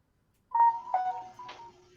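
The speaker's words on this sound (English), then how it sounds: "No, that was my phone." A phone notification chime sounds during a livestream: three short tonal beeps roughly half a second apart, fairly close and clear, with a faint sustained tone lingering underneath and no talk.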